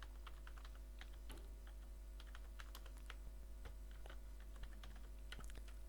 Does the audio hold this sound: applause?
no